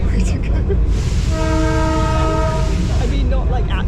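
A loud, sustained train horn on the Darjeeling toy train blares for about two seconds over the heavy rumble of the moving train.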